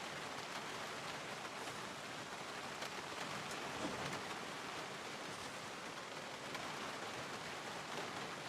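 Rain falls steadily in a zombie apocalypse survival video game, a soft, even hiss of downpour with no breaks, fairly quiet and with no voices over it.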